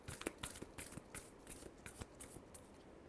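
Tarot cards shuffled by hand in a quiet room, a series of soft, riffling bursts at an irregular rhythm, close and fairly faint, with no one speaking.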